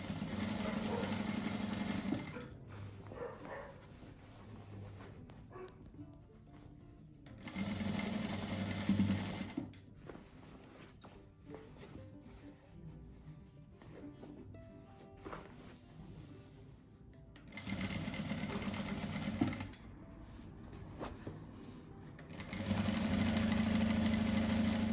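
Sewing machine stitching knit t-shirt fabric in bursts, running in a few loud, steady whirring runs of several seconds each, separated by quieter pauses with faint handling noise.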